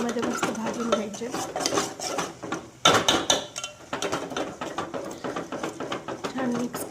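A spoon stirs ground masala paste in oil in a pan for mutton curry, giving repeated scraping and clinking strokes against the metal in an irregular rhythm, close and moderately loud.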